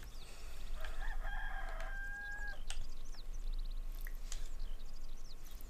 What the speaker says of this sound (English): That rooster goes off again.